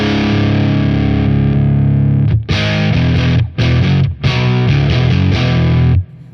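Distorted electric guitar chords through a Stone Deaf PDF-1X pedal ring out with a thick overdriven tone, played in a few strummed phrases with brief gaps between them, loud and steady.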